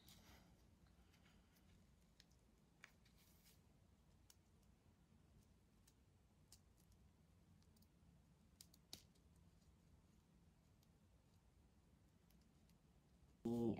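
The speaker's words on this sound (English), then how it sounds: "I'm just going to carry on cutting that off." Quiet, sparse snips and clicks of scissors cutting through wig threads, scattered irregularly over a faint background hiss, with a louder bump at the end.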